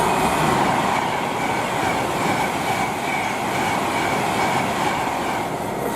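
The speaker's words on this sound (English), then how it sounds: "we have got 390 to Glasgow Central." A class 390 train bound for Glasgow Central passes Tamworth on the West Coast Main Line, a loud, close, continuous roar of wheels and rushing air throughout.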